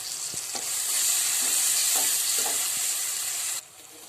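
Onion, green chilli and tomato sizzle loudly as they are sautéed in a pan for egg curry, with steady frying hiss and a few soft stirring scrapes, then the sound drops away abruptly near the end.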